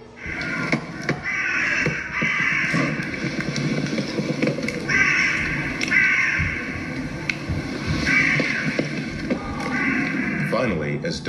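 Crows caw repeatedly at night in a forest, harsh calls rising and falling throughout, with a voice talking over them the whole time.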